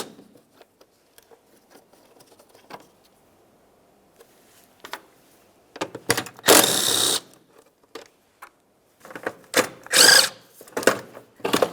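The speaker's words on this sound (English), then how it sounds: "Move along to removing your three 11mm headed mounting nuts." Three 11mm mounting nuts being taken off while replacing the windshield washer reservoir on a 2003-2011 Mercury Grand Marquis. Faint scattered clicks come first, then several loud close bursts of a power tool whirring, separated by short pauses.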